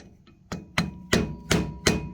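Five sharp metallic hammer blows on brake parts from a 2015 Nissan Frontier brake job, evenly spaced and close, preceded by a couple of light taps.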